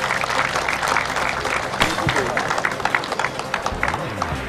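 Crowd applause and cheering for a footballer at a stadium event in Romania, steady and fairly loud across the stands, with an announcer's voice running over it throughout.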